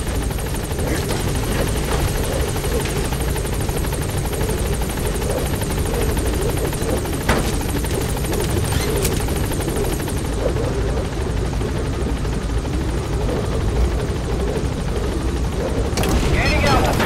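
The Pequod helicopter in Metal Gear Solid V: The Phantom Pain arrives at a landing zone, its loud rotor thrumming steadily throughout, with a radio voice speaking beneath it and a few dull thumps.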